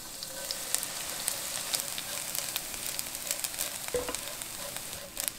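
Anchovies, about 200 g, stir-fry in roughly five spoonfuls of cooking oil in a pan over low heat, giving a steady soft sizzle with scattered light crackles and scraping stirs throughout.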